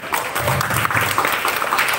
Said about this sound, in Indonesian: Jadi tepuk tangan dulu untuk Nana.